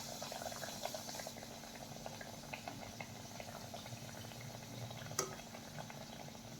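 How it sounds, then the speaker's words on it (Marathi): Kachori dropped into hot oil for deep frying, a steady bubbling sizzle that runs throughout at low, even loudness, with one brief sharper crackle near the end. "आता आपण त्यामध्ये कचोरी सोडूयात"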